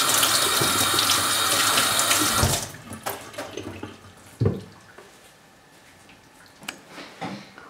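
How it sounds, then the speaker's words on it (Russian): Carrots being washed under a running kitchen tap, a loud steady stream of water for about two and a half seconds, then quieter splashes, drips and handling sounds at the sink. "Мою и чищу морковку и"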